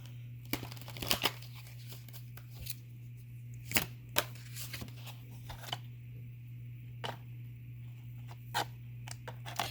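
Tarot cards are shuffled for a reading, giving soft irregular riffles and snaps in scattered bursts over a steady low hum, close and fairly quiet with no talking.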